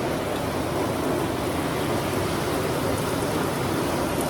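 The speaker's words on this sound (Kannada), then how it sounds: "ಹೊರಗಡೆ ಇನ್ನೂ ಜಾಸ್ತಿ ಬರ್ತಾ ಇದೆ ಮಳೆ" Heavy rain pours steadily outside in the Western Ghats forest, a dense, even hiss of falling water that holds constant and loud throughout with no voices.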